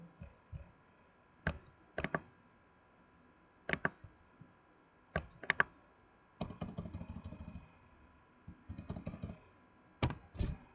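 Someone types on a computer keyboard in short bursts of sharp, close clicks and key taps, separated by brief pauses, with no talking.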